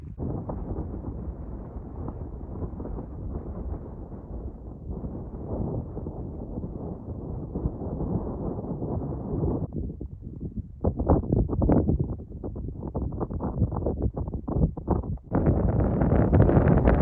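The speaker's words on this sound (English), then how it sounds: "It's quite windy, which was forecasted" Strong mountain wind roars across the microphone on an exposed peak traverse in the Deseret Peak Wilderness, a loud, continuous rumble with surging gusts throughout.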